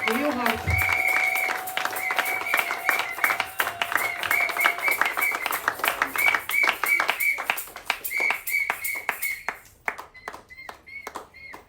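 A church congregation at a Sunday worship service claps and cheers loudly, a dense sustained round of applause with shouting voices and whistles, fading toward the end.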